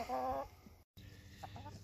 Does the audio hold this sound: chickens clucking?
yes